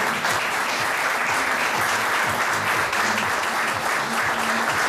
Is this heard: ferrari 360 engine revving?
no